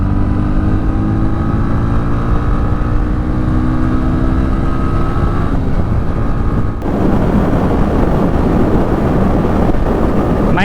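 A 2024 Bajaj Pulsar NS 125 motorcycle engine revs up through rising tones during a riding test, loud and close with heavy wind rush, then a gear shift into a rougher, noisier drone.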